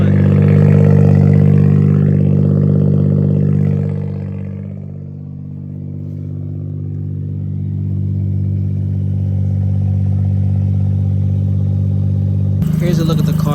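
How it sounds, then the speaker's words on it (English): Idling 1991 Suzuki Cappuccino kei car with a non-stock aftermarket exhaust, a close, steady low burble that dips briefly and then holds even, with talking over it. "Along with this exhaust note"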